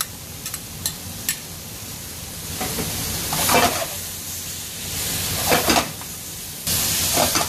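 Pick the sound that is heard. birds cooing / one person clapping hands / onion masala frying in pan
onion masala frying in pan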